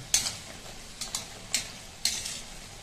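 Urad dal vadas frying in hot oil give a low bubbling sizzle under a handful of sharp stirring scrapes and clinks, spaced about half a second apart.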